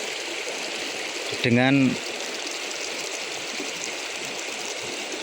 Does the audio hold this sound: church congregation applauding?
no